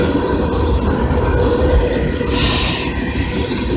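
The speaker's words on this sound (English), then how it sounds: "And now, there's another train." A train rumbles past in Chelsea, Oklahoma with a steady, loud roar and rattling, no voices present.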